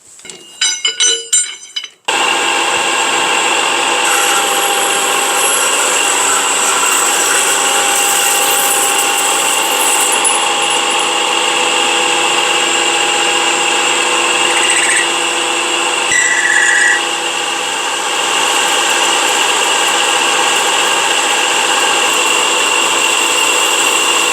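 Power tool machining the bottom of a metal parasol-extension pipe so a screw can fit, a loud continuous high-pitched whine with metallic ringing tones running steadily after a brief burst at the start.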